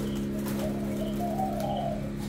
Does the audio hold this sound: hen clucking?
no